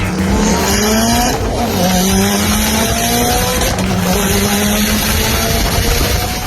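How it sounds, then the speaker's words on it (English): Race cars at a grassroots racing event roar past with rising and falling engine pitch, mixed with loud tire squeal and skidding, continuous and close. "And more car sounds from my guest."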